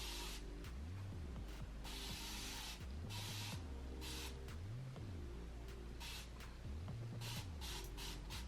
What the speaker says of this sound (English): Spray bottle with some water.